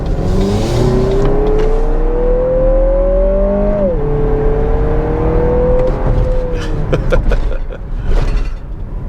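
A 2024 Lexus NX350 in Sport Plus drive mode accelerating hard, its engine note climbing steadily, dropping briefly at a gear change, then rising again, loud and close from inside the cabin with no talking.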